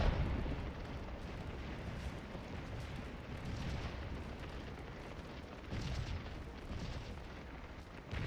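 Artillery fire and distant explosions rumble through a Civil War battle in the Scourge of War game. The booms are faint and continuous, with a few louder swells and no voices.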